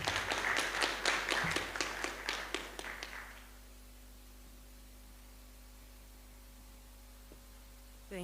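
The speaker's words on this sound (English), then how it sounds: "Another round of applause for Director Jared." Audience applause at a GIS innovation workshop: a brisk burst of many hands clapping that tapers off after about three seconds, leaving only a low, steady room hum.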